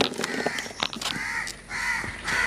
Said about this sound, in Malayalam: പാല് വെച്ചു കൊടുത്തപ്പോഴേക്കും അത് നോക്കിയിട്ട് നോക്കിയേ കാക്ക വന്നിരിക്കണേ